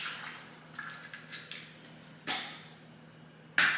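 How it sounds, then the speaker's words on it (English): Eggs cracked against a bowl for an egg wash on mummy-wrapped jalapeno poppers: a few small taps and clinks, then two sharp, close cracks spaced apart, with no talking. "So I'm going to crack a couple eggs"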